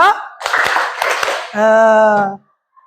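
A group claps on a spoken count, giving a short burst of claps in two quick clusters. A loud voice follows, then silence.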